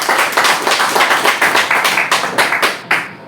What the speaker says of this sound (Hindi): एक जोरदार ताली मैडम आपके लिए।